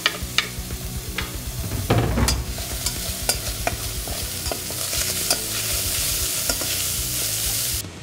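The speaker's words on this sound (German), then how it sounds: "Nachdem wir das Gemüse klein geschnitten haben, braten wir dieses in einem Topf an." Chopped vegetables frying in a pot for a spaghetti sauce, a close, loud sizzle broken by repeated scraping stirs, with no talk.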